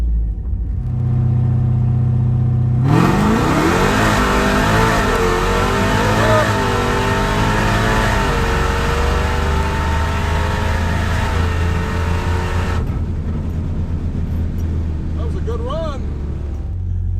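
A Dodge muscle car launches hard down a drag strip, engine roaring loud and close as it climbs through rising gear pulls, then the sound cuts off abruptly near the end, leaving faint background noise and a brief tone.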